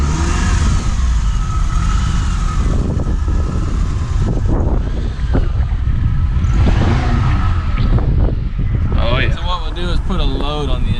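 A PT Cruiser with 188,000 miles, a misfire and a knock, revs hard under acceleration, giving a loud, rough mid-pitched engine drone close by, with people talking over it.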